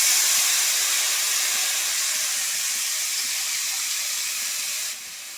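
Washed beans and cabbage frying in a pan, a loud steady sizzle and hiss close up that eases slightly near the end, with no talking.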